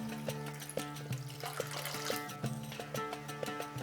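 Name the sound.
water poured into roasted semolina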